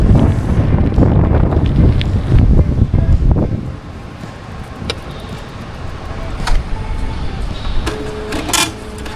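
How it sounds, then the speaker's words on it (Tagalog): Strong morning wind buffets the microphone in heavy rumbling gusts that ease after a few seconds, leaving lighter wind with scattered faint clicks and knocks. "Oh, lakas ng hangin."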